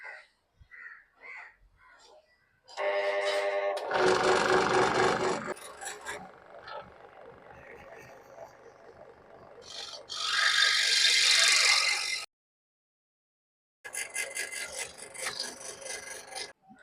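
A small notch is cut into a handmade wooden fishing lure with loud bursts of rasping, sawing strokes separated by pauses, close and harsh.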